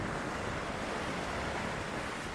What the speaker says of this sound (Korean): 여기 동해 동해 같이 이렇게 바다, 파도 소리가 나잖아 지금